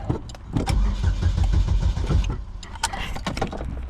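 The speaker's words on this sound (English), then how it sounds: "But it does crank though, so that's a good sign." Race car engine cranking over repeatedly on the starter without catching, a steady churning rhythm close by, followed by a few metallic clicks and knocks.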